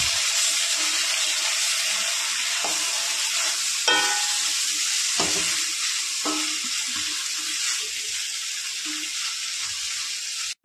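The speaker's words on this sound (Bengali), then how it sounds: "বড়িটা আমার ভাজা হয়ে গিয়েছে, ঢেলে দেব" Fried lentil dumplings (bori) tip into a hot fish-head and Malabar spinach curry, setting off a loud continuous sizzle with several sharp bursts and crackles that gradually settle.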